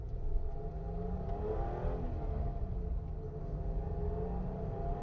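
A BMW Alpina E21 C1 engine accelerating steadily, a continuous deep engine drone with rising harmonics heard from inside or close to the car, moderately loud and unbroken, with no talking.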